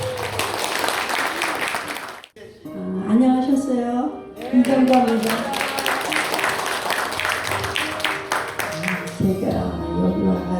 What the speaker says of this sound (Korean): 특강을 준비해 주신 이경자 강사님을 여러분 큰 박수로 청해 주시기